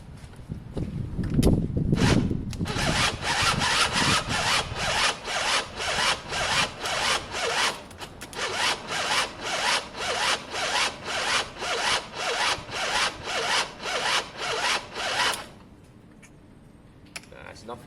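A 50cc Gilera DNA scooter engine with no spark cranks over and over in a rapid rhythmic whirring that never catches, turning over weakly, stopping after several seconds; an earlier rustle precedes it.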